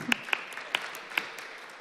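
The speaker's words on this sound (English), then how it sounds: "Please everyone. give your applause." An audience at a startup accelerator panel gives brief, scattered applause, with a handful of distinct claps rising over a soft room murmur.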